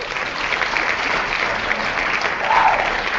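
Studio audience applause as a sound effect, a steady wash of clapping hands that holds evenly throughout and swells slightly near the end, with no talking over it.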